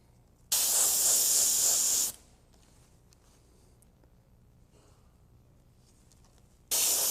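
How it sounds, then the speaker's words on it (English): Spray gun applying Cameleon colour-shift paint, a loud steady hiss of about a second and a half, then quiet, with another burst starting at the end. "Continue spraying the Cameleon in here."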